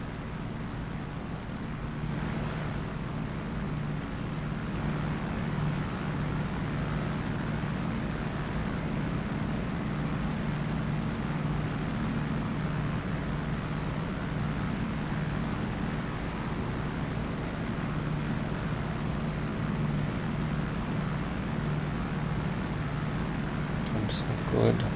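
F4U-1D Corsair propeller aircraft in level flight in DCS, a steady droning engine hum running continuously at moderate level, with a person talking over it.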